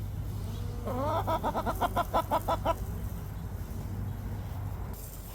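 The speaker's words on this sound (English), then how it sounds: "Hello, beautiful Marin chicken." A Marans hen gives a quick run of rhythmic clucks close by in a backyard pasture, about eight sharp pulses in a row, then settles into quieter background noise.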